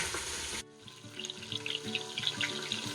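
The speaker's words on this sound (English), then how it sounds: "I'm just going to let them sear, and then we're going to flip them over and get some color on the other side" Pieces of beef searing in a hot pan for pot roast, a steady close sizzle and crackle with scattered pops, preceded by a brief louder burst of noise at the start.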